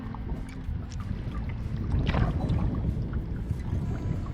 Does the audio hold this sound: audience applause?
no